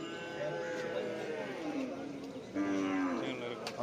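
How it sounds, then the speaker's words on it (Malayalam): Buffaloes at a cattle market in Kerala low and moo repeatedly nearby, with several overlapping calls over a busy outdoor background and people talking. "പല വലിപ്പത്തിലുള്ള പോത്തുകളാണ് നിൽക്കുന്നത്"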